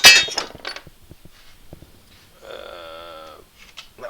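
Sanding belts being swapped on a Robert Sorby Pro Edge sharpener: a sharp metallic clink and rattle up front, scattered small knocks, then a brief steady humming tone before a few more light taps.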